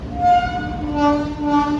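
A superfast train to Ayodhya at Dhandhuka station sounds a sustained, loud multi-tone horn blast that swells and dips over about two seconds, close by.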